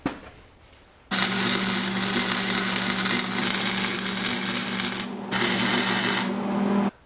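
A welder lays short stitch welds on the front clip panels of a classic Bronco, giving a loud, steady crackling buzz in two long runs that start and stop abruptly, with a brief break between them.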